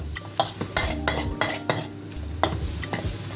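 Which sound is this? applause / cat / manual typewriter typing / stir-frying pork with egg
stir-frying pork with egg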